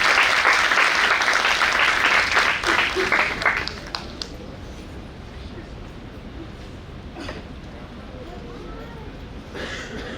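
Loud applause bursts from an audience at a Kushwaha community sports achievement award ceremony, greeting a speaker. It is dense for about four seconds, then thins to scattered claps and room murmur.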